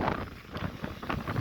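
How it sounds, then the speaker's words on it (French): Outdoors, gusty wind buffets the microphone in continuous low rumbling bursts that rise and fall, with no voices heard. "Ah, il y a le vent, hein."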